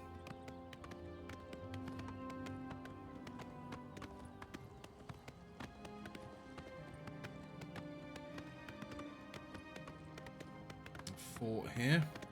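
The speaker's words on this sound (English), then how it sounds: "This horse does not like climbing at all." In The Elder Scrolls IV: Oblivion, a horse gallops with rapid, steady hoofbeats under a tonal music bed, with someone talking over parts of it and a brief louder burst near the end.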